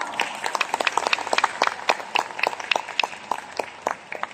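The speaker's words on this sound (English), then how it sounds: "Give yourself a big round of applause." A seminar audience claps for themselves at a Riway Philippines event in Manila, dense, lively applause with distinct individual claps popping through, fairly close and sustained throughout.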